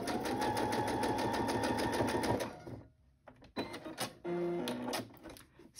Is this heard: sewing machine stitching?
yes